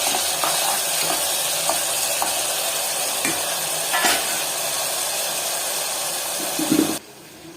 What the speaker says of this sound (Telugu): ఇక్కడ మేమైతే ఉల్లిగడ్డలు, పుదీనా యాడ్ చేసుకున్నాము ఆయిల్లో. అదంతా కూడా ఒకసారి మిక్స్ చేసుకోవాలి.